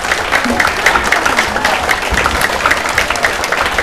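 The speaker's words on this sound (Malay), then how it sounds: "Orang yang tepuk kuat, tepukan yang bersemangat." A room of students clapping loudly and energetically at an exam motivation program, a continuous, close, full burst of hand claps with no pauses.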